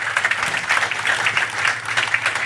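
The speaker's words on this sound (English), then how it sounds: "Give them a round of applause." Steady, dense clapping from an audience giving a round of applause at an inspirational business gathering, continuous and fairly loud throughout with no voices over it.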